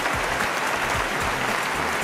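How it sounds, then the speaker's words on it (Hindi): Studio audience claps on a TV quiz show, a loud, brisk burst of many hands beating steadily for a couple of seconds with no talk over it. "तालियां बजा दें।"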